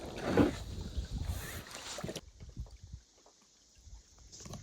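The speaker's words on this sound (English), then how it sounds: "I've been paddling for like 45 minutes and kind of almost there" Paddle strokes and water splashing from a small boat nearing Ryan Island on Siskiwit Lake, Isle Royale, with wind; busier splashing early, then quieter lapping with occasional soft dips.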